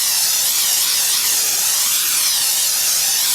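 Cooking spray hisses onto a baking pan being greased. It is one steady, close, continuous spray lasting a few seconds, with no talking.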